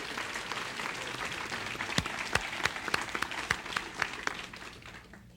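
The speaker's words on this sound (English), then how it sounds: "would you join me in a round of applause for the fine job that she's done in her 4 years?" An audience at a 1994 city address gives sustained applause for an outgoing county supervisor. The dense clapping rises with some louder individual claps, then fades toward the end.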